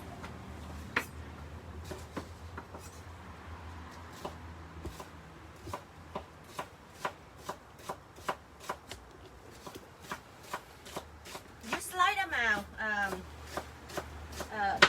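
A knife chops spring onions on a cutting board in a home kitchen, with evenly spaced single chops and a quick burst of faster cuts near the end, a voice talking quietly underneath.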